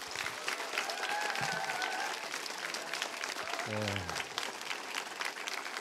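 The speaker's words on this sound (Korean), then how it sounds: "다시 한번 뜨거운 박수 좀 부탁드리겠습니다." A packed political rally crowd bursts into sustained, dense applause, a steady wash of clapping that holds for several seconds, with a voice briefly heard over it.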